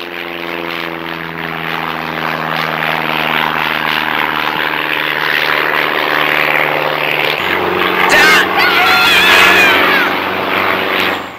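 A toy propeller aeroplane flies overhead in a park, a loud buzzing drone that holds steady and then shifts pitch as it passes close by, with a brief sharper whine near the end.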